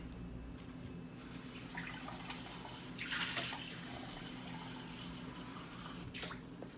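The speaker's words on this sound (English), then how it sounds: "I'm going to add some water." Water poured into a hot frying pan with olive oil sizzles in a sharp hissing burst, followed later by a shorter second burst over a quiet kitchen background hum.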